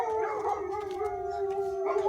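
Several dogs howl together in Vilcabamba, a sustained wavering chorus of overlapping howls at moderate distance, with no talk.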